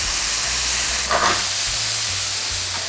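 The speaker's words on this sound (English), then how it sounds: "add the vegetables cut into strips and stir fry for about 2 minutes" Chicken breast and vegetable strips stir-fry in a pan with a continuous hissing sizzle and a brief louder flare of steam near the middle, over a low steady hum.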